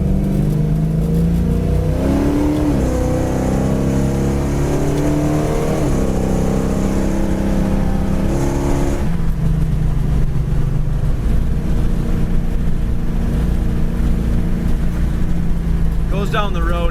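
A 1973 Dodge Challenger Rally cruising down the road at speed, its engine droning loudly and steadily with a gear change partway through and continuous road and wind roar, heard from inside the car.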